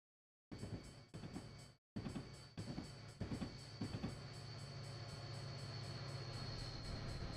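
A train rumbles past a crossing with rhythmic clattering bursts over the rails, then settles into a steady, loud, continuous roar of passing cars.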